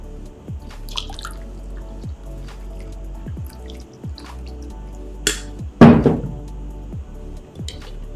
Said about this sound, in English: And then we add water.